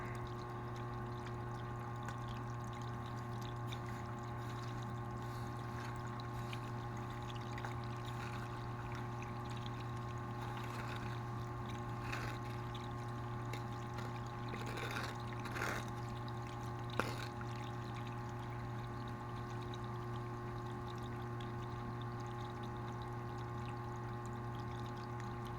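Water pours steadily through a gold sluice run, carrying clay-laden material, a continuous rushing flow with a few brief splashes and one sharp knock near the end, no talking.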